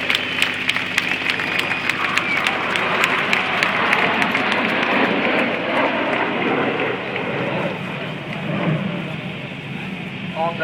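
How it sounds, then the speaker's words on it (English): An airshow crowd at a Red Arrows display in Southport applauds as a broad wash of clapping spread across a large open space, steady for several seconds and slightly fading, with faint voices and wind noise beneath. "Let's have a big round of applause for Her Majesty the Queen and for Great Britain"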